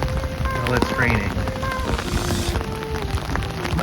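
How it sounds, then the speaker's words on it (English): Steady rain patters down on a wet morning at Rickwood Caverns State Park, a constant hiss of drops that is fairly loud and close and continues without a break. "rainy morning here at Rickwood Caverns State Park. Looks like it's probably going to rain for most of the day today."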